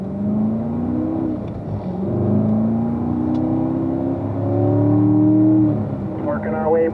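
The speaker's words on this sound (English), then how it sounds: "Let's get the cars up to speed" A Chevrolet Corvette Grand Sport, 2018, accelerates through a warm-up lap on a race track, its engine note climbing steadily in long rising sweeps, heard close from inside the car with an instructor's voice running over it.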